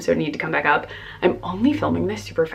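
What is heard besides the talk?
No everyday noises stand out.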